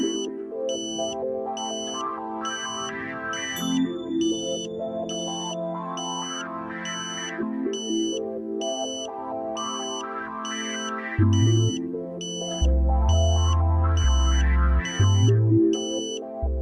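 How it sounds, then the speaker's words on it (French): A satellite dish pointing meter gives out a repeating electronic tone while locked onto the signal, with high beeps pulsing at an even, rapid rhythm over a band of lower buzzing tones that shift steadily. "Vous entendez ensuite la tonalité de verrouillage"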